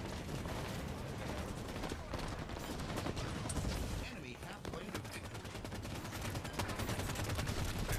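Machine gun fire in the video game Halo 5: Guardians during a Big Team Strongholds match on the Guillotine arena map: continuous, busy bursts of distant and nearby gunfire mixed with a player talking throughout.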